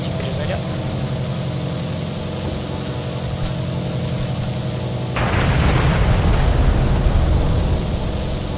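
Bombs dropped from a Su-2 plane in War Thunder explode in a sudden loud boom that rolls on as a thick rumble, over a steady droning aircraft engine, with someone talking.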